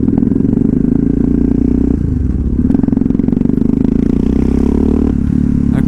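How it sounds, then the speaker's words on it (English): Yamaha MT-03 motorcycle engine running loud and steady at close range, a dense low rumble with rough clattering pops like backfires and a brief dip in revs midway, no talking. "And the backfires are so satisfying and loud."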